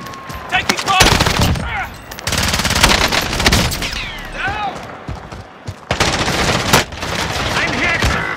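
Heavy video-game gunfire in an online shooter, with sustained machine-gun bursts and overlapping volleys punctuated by short gaps, loud and close throughout, with no voices over it.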